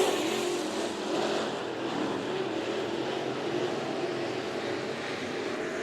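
Race cars roar around the dirt track at Bakersfield Speedway during a heat race, a dense continuous engine drone heard from a distance with no pauses.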